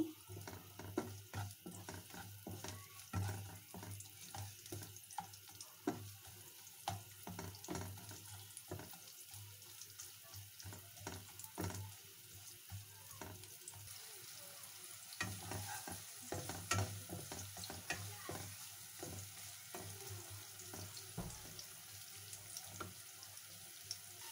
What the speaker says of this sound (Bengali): পেঁয়াজ দিয়ে দিব। পেঁয়াজটা হালকা নরম করে নিব।